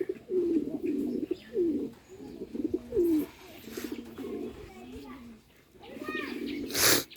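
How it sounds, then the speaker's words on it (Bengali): Two black male Rajshahi Giribaz pigeons cooing in repeated rolling phrases close by, with the occasional higher chirp and a brief noisy burst near the end. "দেখুন রাজশাহী গিরিবাজার কি সুন্দরভাবে ডাকতেছে"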